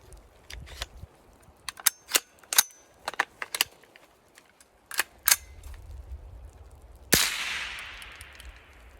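Norma .22 LR rounds crack from an AR-15 fitted with a CMMG .22 LR conversion, a dozen or so sharp, loud shots at an uneven pace, the final one trailing a longer echo.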